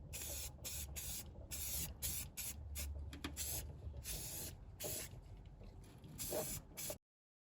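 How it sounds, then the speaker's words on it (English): Rust-Oleum dark green spray paint hisses from an aerosol can in a run of close, repeated bursts separated by short gaps, applied to a part under the seat of a 2010 Subaru Forester. "So we're gonna put probably 2-3 coats of Rust-Oleum paint on there just to protect it."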